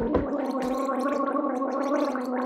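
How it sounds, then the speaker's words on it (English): A person gargles a sip of liquid, a close, loud, steady bubbling rattle in the throat with a pulsing rhythm lasting a couple of seconds, heard alone. "gargle a little bit before you swallow."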